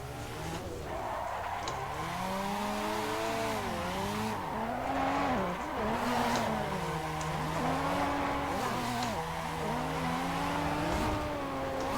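In the Assetto Corsa racing sim, a turbocharged drift car slides sideways in second gear at full throttle, its engine droning and rising and falling continuously under long, loud tire squeal.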